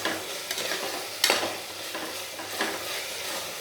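Tomatoes sautéing in a pan for mutton biryani, a close sizzle broken by a few scraping stirs of a spoon, with no voices.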